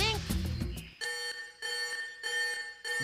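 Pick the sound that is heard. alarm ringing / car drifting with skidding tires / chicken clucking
alarm ringing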